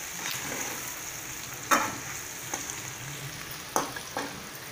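Brinjal kulambu with rock salt being stirred in a pan, a steady low sizzle of frying with a few soft scraping knocks of the spoon against the pan, fairly quiet and with no talking.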